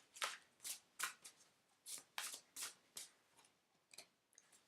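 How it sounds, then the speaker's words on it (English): Tarot cards shuffled and pulled from a deck: a quiet, close series of crisp riffling flicks in an irregular rhythm, about a dozen soft papery snaps with brief pauses between. "let me just pull a few cards."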